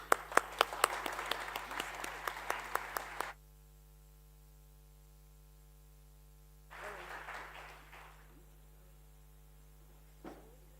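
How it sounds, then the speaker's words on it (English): A conference audience gives applause for sponsors and organizers: a burst of dense clapping for about three seconds, then a hum-filled pause and a second, quieter round of claps fading out, with faint mains hum throughout. "I want to thank especially for our sponsors, local organizing institutions and university, please, a big applause."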